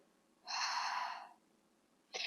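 Person exhaling forcefully as if blowing out a candle during a diaphragm breathing exercise, one long breathy puff followed by the start of another, quiet and close.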